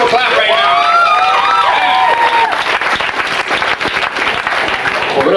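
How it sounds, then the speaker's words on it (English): A comedy club audience in the 1990s claps and cheers loudly and steadily throughout, with a few whoops, while a voice carries over the crowd. "All my summer people clap right now."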